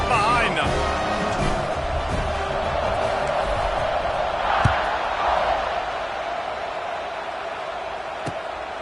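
A college football stadium crowd roars steadily before a kickoff in an Alabama versus South Carolina game, loud and dense, with a commentator's voice over the noise.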